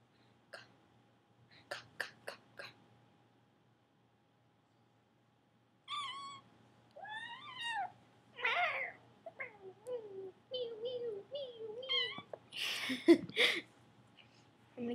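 A cat meows several times in close, short, tonal calls, with a few quicker chirps near the end and brief quiet gaps between bursts.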